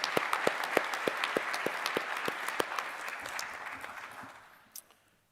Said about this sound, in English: One more time, let's give Mark a round of applause